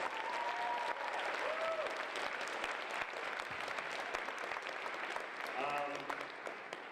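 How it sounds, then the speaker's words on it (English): Sustained applause from a college convocation audience at Snow College, steady and fairly distant, filling the whole stretch with dense clapping while a voice briefly speaks over it near the end. "Let's hear another round of applause for our great music program here at Snow College"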